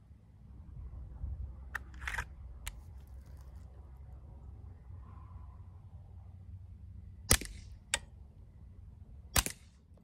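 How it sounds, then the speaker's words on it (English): Taurus TX-22 Competition .22 semi-automatic pistol firing outdoors: a few sharp, distant-sounding cracks spaced irregularly over ten seconds, with quiet low rumble between shots and no talking. "One of the nicest 22 semi-automatic pistols I've ever fired."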